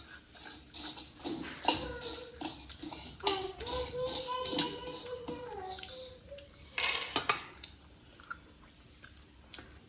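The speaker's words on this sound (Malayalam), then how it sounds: "ഞാൻ തിന്നുന്നൊരു സൗണ്ടാണ് കേൾക്കുന്നത്" Someone eats fried prawns with crunchy bites and chewing at close range, the munching coming in irregular bursts while voices talk intermittently in the background.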